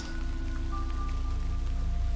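Rain falls steadily in a Korean RPG Maker horror game, a constant soft patter of drops on a surface with a low droning tone underneath and no voices.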